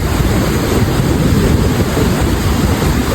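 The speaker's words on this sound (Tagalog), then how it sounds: "Medyo maalon ngayon kasi malakas yung hangin." Loud, constant roar of wind buffeting the microphone over crashing sea waves, with no voices.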